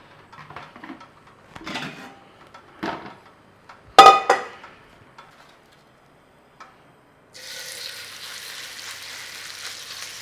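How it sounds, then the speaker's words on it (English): Several scattered clanks and scrapes of utensils against a pan, one sharp knock, then a steady sizzle of beef frying for the last few seconds. "we want to be frying that beef"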